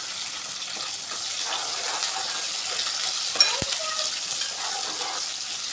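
Onions and curry leaves fry in an oiled pan for a chicken curry, giving a steady, moderate sizzle that runs through the whole stretch with a couple of faint clinks partway.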